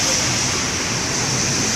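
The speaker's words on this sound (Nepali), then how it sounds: "यहाँ प्रशस्त पानी परिरहेको छ अहिले" Heavy rain pours down in Riyadh at around four in the afternoon under a dark sky, a loud, unbroken broadband hiss with no gaps.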